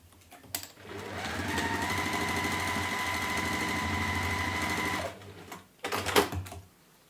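A domestic sewing machine stitches a fabric seam for a faux tortoiseshell handle bag, running steadily and close for about four seconds, then stopping, followed by brief handling clatter.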